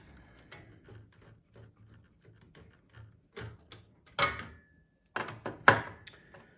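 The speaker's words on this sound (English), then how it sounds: "Now next we're going to get our 1/4 nut driver, and we're just going to pop these 2 out." A 1/4 nut driver removing nuts on a Stern Godzilla pinball machine, quiet rhythmic ratcheting clicks and scraping, followed by a few sharper metallic clatters near the end.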